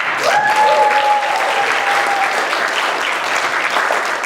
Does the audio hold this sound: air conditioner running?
no